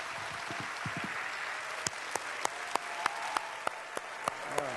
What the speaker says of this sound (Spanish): Fuerte aplauso, Andrés, gracias.